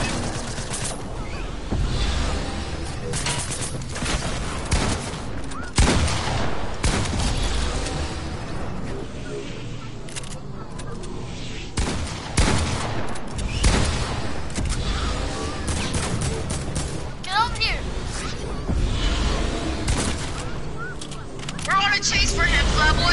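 Gunfire and explosions in a video game, repeated bursts of shots and booms in irregular clusters, mixed with people talking over the action.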